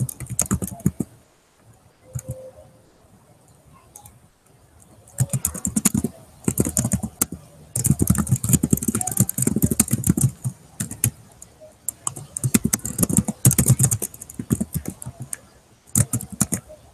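Bursts of rapid, clattering computer keyboard typing, close and fairly loud, separated by quiet pauses.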